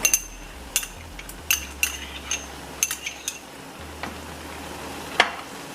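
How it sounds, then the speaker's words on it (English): A utensil clinks and scrapes against a bowl in repeated sharp taps while onion and garlic are mixed for a Gilbaka curry masala, over a low steady hum with no talk. "I'm going to mix the masala for the Gilbaka curry. So I have here onion. To this I'm going to add my garlic."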